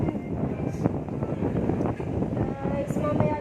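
Steady, rough wind roar buffeting outdoors, continuous and fairly loud, with some low rumble throughout.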